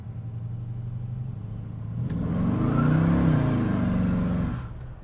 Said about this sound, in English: I burned the tires, that's for sure. Yeah, up to 55, no problem at all.